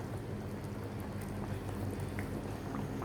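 White pumpkin gravy bubbles on a stove in a steady, dense boil that stays even and fairly close, with no voices.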